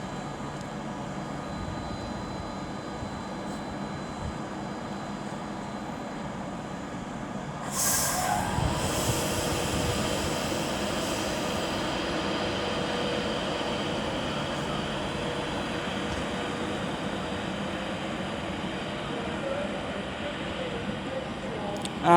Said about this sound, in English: I think 390-006 is now getting ready to depart with the 1652 Avanti West Coast service to London Euston.